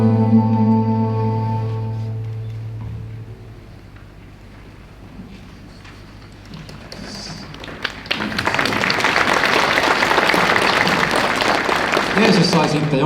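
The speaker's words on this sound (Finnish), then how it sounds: "Jeesus sai sitten jonkinlaiset aplodit" Applause breaks out in a Finnish church service held in the Joutsa sports hall, a broad clatter of clapping that swells after a quiet stretch with sustained tones and a low hum, filling the hall loudly through the final seconds.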